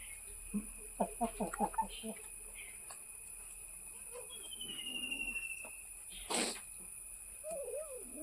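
A chicken clucks in a quick run of short calls near the start, with a few scattered clucks and soft background noise afterward.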